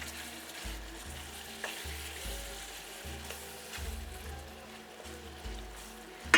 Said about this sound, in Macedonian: Да го фати врелото масло, малку да се пропржи.